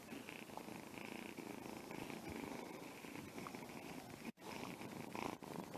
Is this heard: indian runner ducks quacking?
no